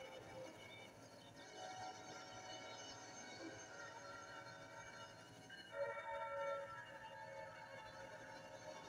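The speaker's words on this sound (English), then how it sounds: "That's an Amtrak." An Amtrak passenger train rumbles past at a steady roar, with a brief higher squeal or horn-like tone rising near the end.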